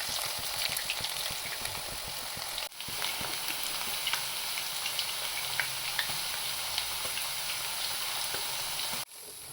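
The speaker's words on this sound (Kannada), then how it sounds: "ಕಾದಿರುವಂಥ ಎಣ್ಣೆಗೆ ಉಪ್ಪು ಮತ್ತು ಪೆಪ್ಪರ್ ಪುಡಿ ಮಿಕ್ಸ್ ಮಾಡಿ ಇಟ್ಕೊಂಡಿರುವಂಥ ಬಾಳೆಕಾಯಿ ಸ್ಲೈಸ್ನ ಬಿಡೋಣ ಎಣ್ಣೆಗೆ" Salt-and-pepper-coated raw plantain slices (nendra banana) frying in hot oil for chips, a dense, loud, continuous bubbling sizzle with crackling pops throughout.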